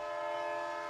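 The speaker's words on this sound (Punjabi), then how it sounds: "ਸ਼ਤਾਬਦੀ ਲੰਘ ਗਈ।" A Shatabdi express train sounds its horn while passing near a level crossing, a loud sustained chord-like blare holding steady throughout the brief moment.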